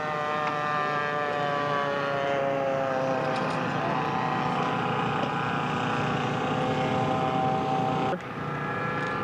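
A scale-model C-47 aircraft flies at an air show, its engines making a steady, sustained drone with a constant pitch. Moderately loud and continuous, with a brief dip near the end.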